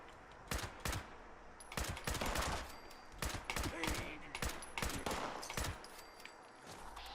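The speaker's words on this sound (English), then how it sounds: "Who's shooting at me?" Rapid gunfire in Fallout 76, repeated sharp bursts and volleys of automatic shots cracking close by in an irregular rhythm across the whole stretch.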